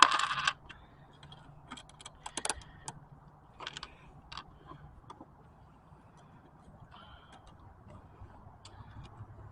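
Metal flat washers, split washers and a nut handled for a LiFePO4 battery system, a burst of jingling at the start then scattered light clinks and taps, close and quiet.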